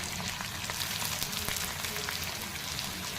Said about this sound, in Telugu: పచ్చిమిర్చి వేసి ఫ్రై చేయాలి